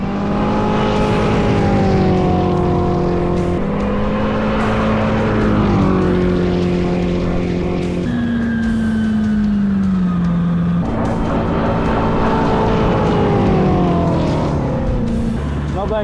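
A turbocharged LS V8 jet ski engine roars loud and close on a high-speed run, its pitch climbing through gears with shifts and surges, continuous and dominant over the water.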